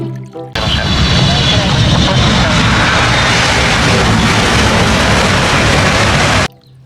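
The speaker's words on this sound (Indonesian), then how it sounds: "pesawat terbang" A toy airplane gives off a loud, steady roaring engine sound that starts abruptly and holds unbroken for several seconds before cutting off.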